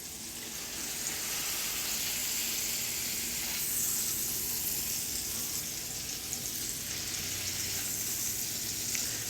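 Smash burgers sizzle on a hot griddle, four large patties cooking at once, producing a steady, loud, continuous frying hiss that holds throughout with no talking.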